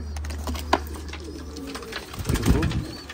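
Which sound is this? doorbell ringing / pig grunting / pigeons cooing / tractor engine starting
pigeons cooing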